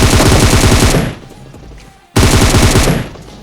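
Rapid automatic gunfire in a battle royale video game, two loud, close bursts of fire separated by a short pause as an enemy is killed, no talking.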